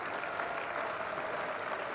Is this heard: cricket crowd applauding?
yes